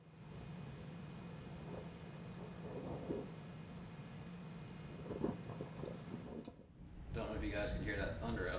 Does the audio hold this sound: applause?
no